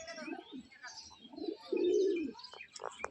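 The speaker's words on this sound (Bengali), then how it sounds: "এইগুলাকে তুড়িবাজ পায়রা বলে।" Close-up cooing of tumbler pigeons, soft burbling calls that build to one long, louder rolling coo, followed by a few sharp clicks and brief flutter-like sounds.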